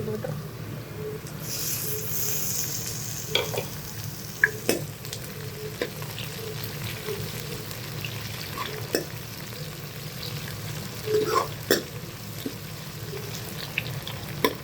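Onions and tomatoes frying in a pan while being stirred, a steady close sizzle with occasional scraping stir strokes and small pops, continuous throughout.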